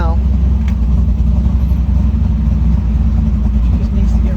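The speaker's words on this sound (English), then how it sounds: "Oh yeah, she's idling good now." A 1969 Chevrolet Camaro Z/28 with its original 302 small-block V8 idles loudly up close, a deep, steady, lumpy rumble filling the whole stretch, with talking heard over the engine.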